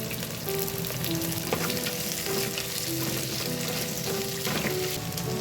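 Chopped onion and green chilies fry in oil with cumin and fenugreek for a tomato curry, making a dense, continuous close sizzle with light stirring and a faint tonal hum beneath.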